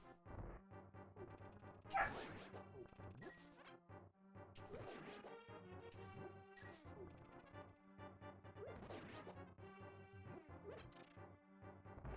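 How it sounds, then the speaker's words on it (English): A dog barks and yips in the background of a home while a Link to the Past randomizer game plays, sharp crashes and game sounds mixed in, the barking distant and intermittent. "That's my brother's dog that you might be hearing in the background."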